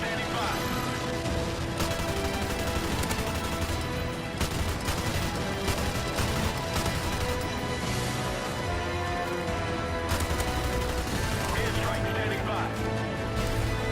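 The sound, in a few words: RPD light machine gun firing in Call of Duty: Modern Warfare Remastered video game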